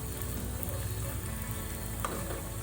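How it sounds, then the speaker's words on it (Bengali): Bori, sun-dried lentil dumplings, frying with dried chillies in oil over low to medium heat, giving a steady soft sizzle and a single brief clink near the end. "লো টু মিডিয়াম আছে বড়িটা ভাজছি"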